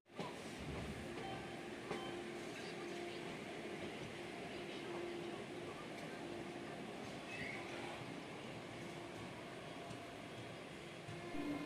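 A train running from Coimbatore to Mettupalayam gives a steady, even rumble and clatter that carries on for the whole stretch.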